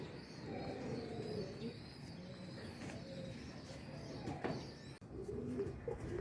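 Pigeons coo softly and steadily through a racing pigeon's arrival during a fun race, with faint chirps and a brief clatter near the end, no talk.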